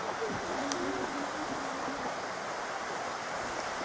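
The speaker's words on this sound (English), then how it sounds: "I'll show you this waterfall." A steady, full rush of a mountain waterfall on Snowdon fills the whole stretch evenly, loud and close, with no talking.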